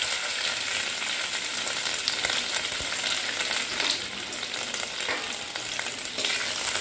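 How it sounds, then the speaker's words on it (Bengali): Chopped ginger, a bay leaf and cloves sizzle in hot oil while being stirred, a steady close crackling hiss with light scraping of the spoon throughout, no voices. "এবার আমি এটাকে সুন্দর করে নেড়ে দিচ্ছি।"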